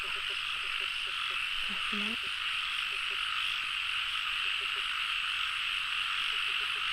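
Frogs croak at night after the first rain of the year in rural Thailand, giving short rhythmic series of croaks and a few deeper calls over a constant high insect buzz.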